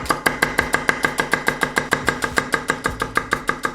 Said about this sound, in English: And now you want to thinly slice some of these onions.